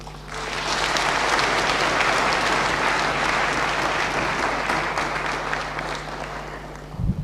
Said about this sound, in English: A better hand of applause for Bartholomew and Valerie